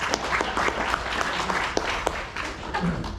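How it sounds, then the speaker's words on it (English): An audience at a community meeting gives Brenda Massengill a round of applause, a moderate, continuous patter of clapping with a few sharper individual claps standing out and faint voices mixed in. "So we want to thank Brenda for that. Give her a round of applause"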